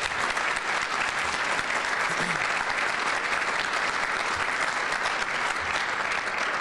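Steady, dense applause fills a community awards dinner hall for educators, an even wash of clapping from a large crowd at moderate volume throughout.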